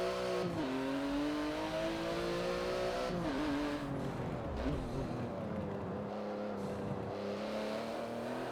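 Road car engine in Forza Motorsport 7, driven on a wheel, revving steadily with pitch dips at braking and shifts and a faint tire squeal, loud and continuous throughout with no talk.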